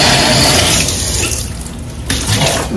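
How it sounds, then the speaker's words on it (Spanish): A kitchen tap runs in a steady, loud, close hiss of water pouring into a sink, continuous with slight surges and no talking. "Voy a parar el agua aquí"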